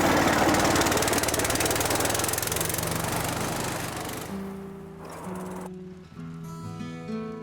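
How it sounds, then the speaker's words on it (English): A little red tractor's engine chugs with a loud, rough, steady knocking throughout, fading somewhat partway through as other tonal sounds take over. "Oh, the little red tractor's out."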